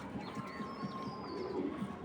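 Low, soft cooing from black racer pigeons, murmuring steadily in the background without a break; it is faint and rough-edged, with no talking over it.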